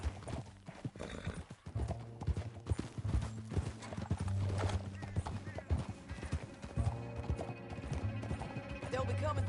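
Horse hooves clip-clop steadily at a quick pace in the Red Dead Redemption 2 video game, fairly close, with occasional whinnies and game dialogue and music layered over the rhythm.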